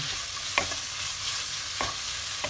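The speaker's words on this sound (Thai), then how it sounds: "ผัดเครื่องแกงกับหมูเข้ากันให้หอม" Curry paste and pork being stir-fried in a pan, a close steady sizzle with two or three sharp scrapes of a spatula.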